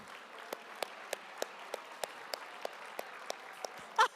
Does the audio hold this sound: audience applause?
yes